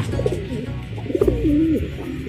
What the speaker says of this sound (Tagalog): Ayan lang yung mga alaga natin kalapatids.